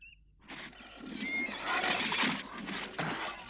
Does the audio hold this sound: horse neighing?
yes